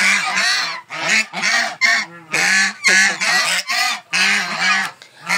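Domestic geese honk loudly and repeatedly at close range while being handled for lice treatment, with harsh nasal calls arriving in quick irregular bursts and brief pauses between them.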